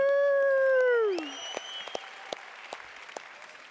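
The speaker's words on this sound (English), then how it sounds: "Give yourselves a round of applause" Audience applause at a youth summit plenary session, opening under a fading cheer or whoop, then settling into a steady wash of clapping with scattered sharp claps.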